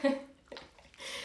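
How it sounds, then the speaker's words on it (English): A pottery sponge is dipped and loaded with water, giving a short splash and trickle, then brief dripping and a second watery swish, heard close up alongside a voice at the start. "So yeah, so I'm going to load my sponge with water."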